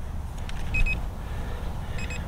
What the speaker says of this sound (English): So there's that beep.